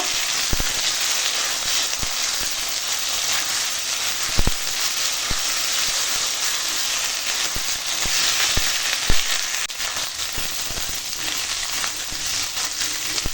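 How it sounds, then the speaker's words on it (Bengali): Vegetables, including potato, sautéing in a pan with ginger-cumin paste: a loud, continuous frying sizzle punctuated by sharp spoon clicks against the pan as they are stirred. "এখন মশলাটার সঙ্গে একটু আনাজটা কষিয়ে নেব।"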